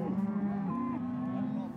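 An Angus cow on a Montana ranch gives one long, deep moo, close and steady, rising slightly in pitch partway through, with no other sound over it.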